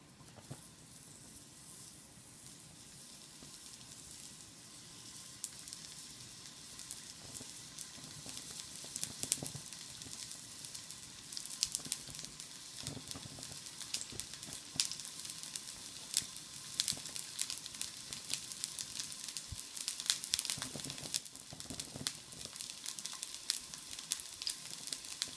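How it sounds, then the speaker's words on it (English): Entoloma mushrooms frying in hot oil in a pan, a continuous close crackling sizzle that grows busier and louder as it goes on, with sharp spitting pops and no speech. "I'm going to put a little oil in the pan. See, the pan's nice and hot. And I'm going to add the entolomas."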